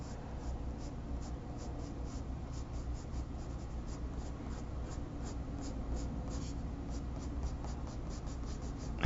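Pencil or pen strokes drawing tall grass on paper, a steady run of soft, quick scratchy marks repeating close by at an even, brisk rhythm over a low background hum.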